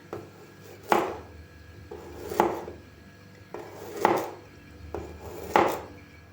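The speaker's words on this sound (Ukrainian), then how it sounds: "250 г редиски нарізаємо пластинками" A knife slices 250 g of radishes into thin rounds on a board, making four evenly spaced, crisp chopping thuds up close, with quiet pauses between them.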